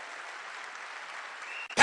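An audience at an Amway business seminar applauds, a soft, even wash of many hands clapping at a distance that swells sharply louder in its final moment.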